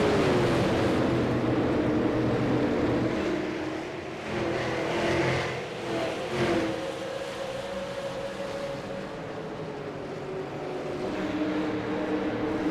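Super Late Model race cars roar around the Kern County oval mid-race, a continuous engine drone with pitch sweeping as cars pass, fairly loud and steady without talk.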